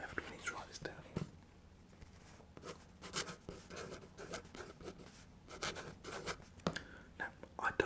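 A pen scratches out notes on paper in a series of short, close strokes and scribbles, with soft whispering running underneath.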